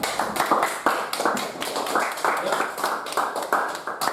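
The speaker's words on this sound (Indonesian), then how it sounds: "Tepuk tangan untuk kita semua" A classroom of students claps steadily and continuously, a dense, busy patter of many hands at close range.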